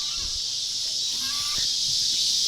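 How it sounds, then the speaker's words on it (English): Geese give a few faint honking calls in the middle of the clip, set against a constant high background hiss outdoors. "I was chasing off these geese"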